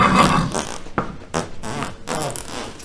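A horse lets out a long series of loud, raspy farts in uneven bursts, close up with no voices.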